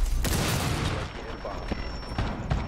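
Rapid gunfire in a Rainbow Six Siege match, loud bursts of shots mixed with game sounds, while players talk excitedly over it.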